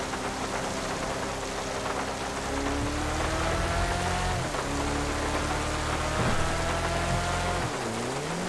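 Heavy rain in GTA 5 hisses as a dense, steady wash, with a car engine droning underneath and shifting pitch as it changes gear; no voices are heard.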